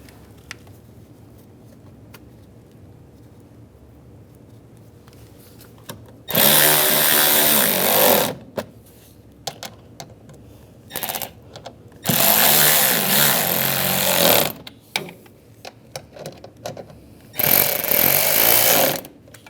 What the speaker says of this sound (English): Now put these screws in, get those started, and tighten them down.